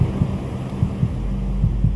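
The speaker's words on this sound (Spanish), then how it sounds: "en lo hondo, muy hondo por debajo de mí sonaba un latido, un ritmo" A deep, low heartbeat sound effect thuds in slow pairs of muffled beats under a steady low hum, heavy and close, with no speech.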